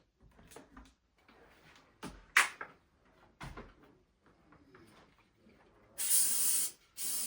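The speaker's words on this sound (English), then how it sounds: "the last thing I like to do is just spray the toilet" Several short, sharp spray bursts from a spray bottle onto a toilet, scattered and separated by quiet handling noises, ending with a longer loud hiss of spraying.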